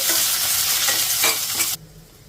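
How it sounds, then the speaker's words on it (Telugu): Coriander seeds and cumin are stirred and fried in a pan over a medium flame, giving a close, loud sizzle with scraping stirs that stops suddenly near the end. "ఇప్పుడు మీడియం ఫ్లేమ్లో ఇలా కలుపుకుంటూ ఒక నిమిషం ఫ్రై చేసుకోవాలి"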